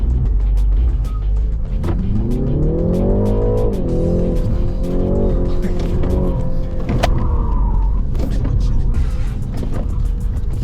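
A BMW iX electric car launches hard, its electric motor whine climbing steeply in pitch with a squeal of tires, loud and close inside the cabin amid road noise, with a brief voice and an electronic chime near the end.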